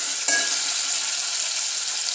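Peanuts frying in a hot pan for masale bhat give a steady, bright sizzle that carries on throughout, with a faint sharp spike near the start as tomatoes go in.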